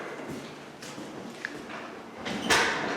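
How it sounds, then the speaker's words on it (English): The front door of a new home opens or shuts, a soft thud and a brief rattling scrape near the end over steady room noise. "And the front door."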